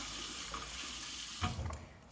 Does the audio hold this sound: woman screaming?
no